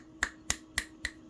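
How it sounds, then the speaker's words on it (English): Four crisp finger snaps at an even rhythm, close and fairly quiet, each followed by a short reflection off the walls of a drywalled room. "And if I snap my fingers"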